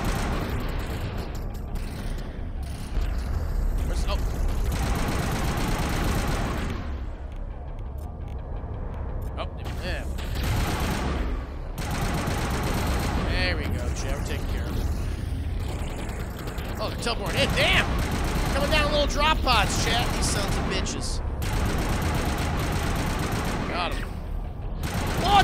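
Sniper rifle fire in the sci-fi shooter Mass Effect, played on PS5, with sharp shots and bursts of gunfire over a continuous loud game soundscape of combat noise and music, while someone talks excitedly throughout.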